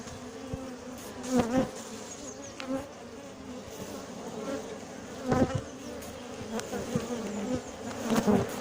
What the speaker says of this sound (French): Là, les abeilles attaquent.